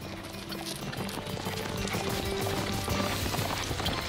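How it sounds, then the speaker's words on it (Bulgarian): Horses gallop in a dense, continuous rumble of hooves at a fantasy film scene, loud and steady throughout with no talking. "Моля ви, нека някой да спре тези коне."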